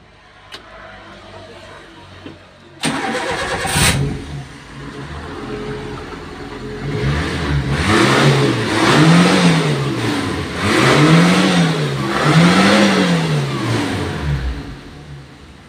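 Espass pickup truck engine, a vehicle said to lack power, starts with a sharp catch, then idles and is revved repeatedly in loud rising and falling surges, close by with no talk.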